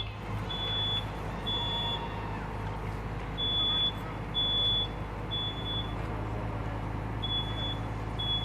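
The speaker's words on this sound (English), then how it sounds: "You've got your smoke detector going off." A smoke detector's high electronic beeping alarm chirps in repeated short bursts over a loud, steady rumble of background noise from a growing fire.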